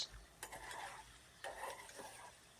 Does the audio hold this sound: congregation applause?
no